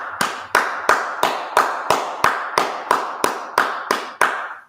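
A group claps in slow, even unison, about a dozen sharp, separate claps at a steady beat with no talk over them.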